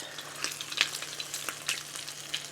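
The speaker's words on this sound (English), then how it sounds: "fry it till it's nice and crispy" A folded taco tortilla fries in hot oil until crispy, giving a steady close sizzle with crackling pops and bursts of spatter throughout.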